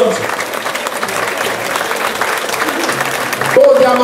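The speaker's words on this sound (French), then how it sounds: "applaudissements, Indiana Jones" Audience applause during a comedy stage show, steady clapping from a crowd mixed with voices and background sound, continuous and fairly loud throughout.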